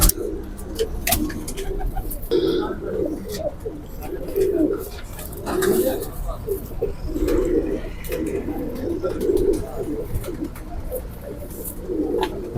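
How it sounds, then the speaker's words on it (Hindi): Soft, low cooing calls from a green pigeon repeat steadily over a busy background of faint chirps and rustling noise. "हरे कबूतर का शौक है, ये हरा कबूतर है।"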